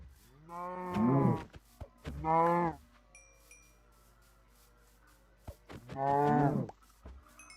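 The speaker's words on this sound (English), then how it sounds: "Just, oh, more cows." Cows in the video game Minecraft give three deep, drawn-out moos with quiet gaps between them, loud and close, alongside faint scattered game clicks.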